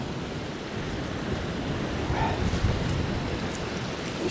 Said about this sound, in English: it's a bit windy down here, like, but some banging waves coming in